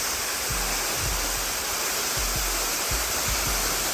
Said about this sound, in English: They're sounding very quiet, which is what I was warned, that the water is pretty low right now